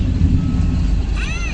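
A lorry on a flooded road gives a few quick reversing beeps close by, rising over the heavy low rumble of its engine and moving water.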